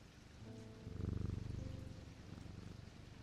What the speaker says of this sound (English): They purred.